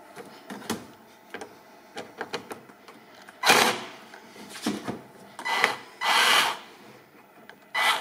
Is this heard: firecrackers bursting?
no